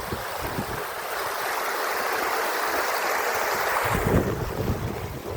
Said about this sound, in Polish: No i tak to sobie płynie bystra woda.